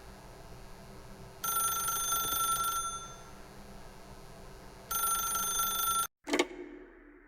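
A telephone rings in The Stanley Parable video game: two bursts of an electronic bell-like ring with a pause between, quiet and alone, then a click as the receiver is picked up.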